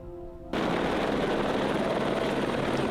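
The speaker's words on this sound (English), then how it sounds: "just another helicopter showed up to land" A helicopter arrives to land in an open field, its loud, steady rotor and engine roar kicking in abruptly after a quiet half second and holding close and constant.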